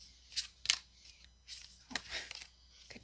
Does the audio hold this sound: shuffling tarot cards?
yes